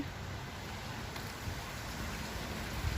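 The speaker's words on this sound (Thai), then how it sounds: "ฝนตก" Rain falls steadily in a soft, continuous hiss, even and unbroken throughout, with no voices.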